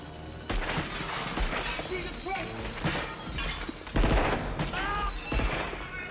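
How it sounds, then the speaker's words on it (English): Bursts of gunfire in a Die Hard scene aimed at the lights, with rapid shots, shattering glass and crashes in a loud, chaotic mix over film dialogue. "They're shooting at him. It's panic fire."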